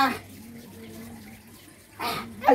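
Water runs briefly from a tap, with short splashing bursts near the end beneath a voice that talks through most of the moment.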